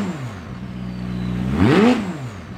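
A supercar on its factory stock exhaust, before new downpipes are fitted, gives a short, fairly quiet rev: a steady idle hum rises to a throttle blip, then falls back.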